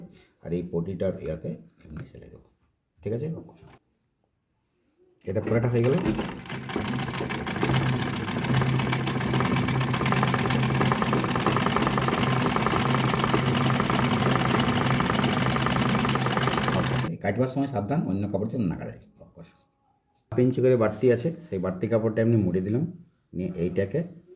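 An electric sewing machine stitches a half collar in one long unbroken run of steady mechanical whirring, with someone speaking before and after it.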